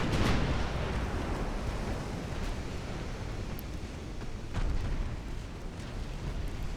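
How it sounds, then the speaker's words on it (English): A 12-inch armor-piercing naval shell striking a battleship in Ultimate Admiral Dreadnoughts, a loud close boom followed by a rumbling, noisy wash with smaller bursts after. "Battleship's taken a big hit from the armor-piercing 13-inch."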